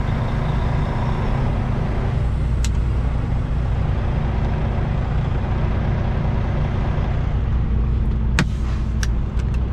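A heavy 49,500 lb mine service truck drives forward, its engine a loud steady low rumble close by, with a few sharp hisses and clicks near the end.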